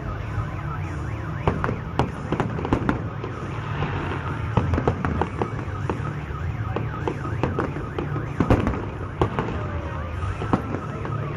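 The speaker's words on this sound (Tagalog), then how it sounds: "Nagawangwang yung mga kotse, nag-a-alarm." Several car alarms warble on and on while a rapid barrage of loud cracking bangs like fireworks pops throughout, dense and chaotic.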